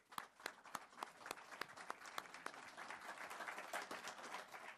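A room at a football coach's introductory press conference breaks into applause, a few scattered claps swelling into fuller group clapping, heard from some distance and fairly soft.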